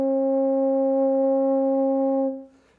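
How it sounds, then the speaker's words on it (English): A small organ pipe tube is blown to sound a steady, pure tone near middle C, holding loud and even for over two seconds before cutting off. "Here's a little organ pipe tube."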